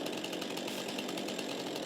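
A chainsaw in the farming video game Farming Simulator 22 runs at a steady, loud, high-revving buzz, unbroken for the whole short stretch with no talking.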